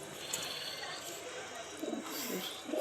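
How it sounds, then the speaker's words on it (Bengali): A high-flying pigeon cooing softly in short low bursts toward the end, set against steady background hiss and faint ambient noise. "পায়রা খুব হাই ফ্লাইংয়ের পায়রা"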